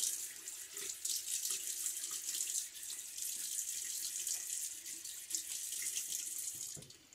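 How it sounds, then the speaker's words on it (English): Tap water runs steadily and fairly close into a sink for several seconds while whiskers are wetted before a wet shave, a continuous splashing hiss with no talking. "before that, let me wet my whiskers."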